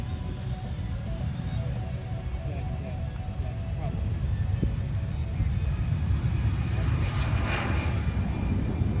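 Plane engine at the 2022 Smoky Mountain Air Show, a steady broad drone that holds throughout and swells slightly toward the end, with crowd noise and a voice faintly underneath.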